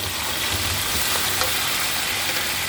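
Four tomatoes dropped into a pan of light brown fried onions for chicken tikka pulao, giving a steady broad sizzle at moderate level throughout, with no talking.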